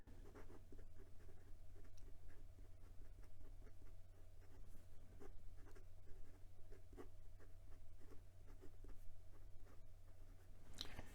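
A Hongdian 1841 fountain pen nib with Diamine Oxblood ink scratches across paper in a faint, continuous run of small strokes, close up over a low steady background hum.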